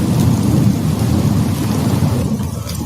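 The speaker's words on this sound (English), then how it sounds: "It's raining. It's so relaxing. Hear that thunder?" Steady heavy rain pours through a thunderstorm, with a deep continuous rumble of thunder rolling underneath, loud and enveloping with no voices.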